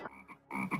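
A frog gives a quick pair of low, throaty croaks, close and clear, one after another within a moment.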